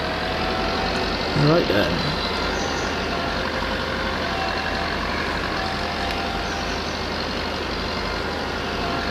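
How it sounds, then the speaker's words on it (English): Vintage tractor engine in Farming Simulator 22 runs as a steady, loud low rumble throughout, with a brief spoken word near the start. "It's obviously an old sort of vintage tractor"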